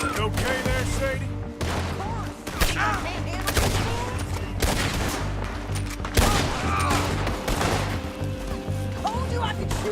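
Gunfire in the video game Red Dead Redemption 2, a loud, dense fusillade of overlapping shots and booms running throughout, mixed with game music and character voices talking.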